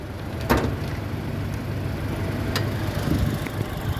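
Toyota Kijang Innova with a 2000 cc four-cylinder petrol engine, rear-wheel drive, running at idle: a steady low hum with a couple of short clicks or knocks on top.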